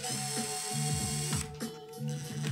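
A Dewalt DCF601 screwdriver on its lowest torque setting drives tiny screws into a model aircraft carrier, producing a steady whirring motor hum broken by repeated rapid ratcheting clicks, close and alone.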